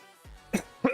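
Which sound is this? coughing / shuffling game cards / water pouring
coughing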